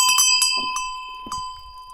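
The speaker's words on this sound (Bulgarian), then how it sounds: "Звънчето." A small entrance bell at a house rings in a few bright, sharp strikes, close and fairly loud, with a steady high tone lingering between them.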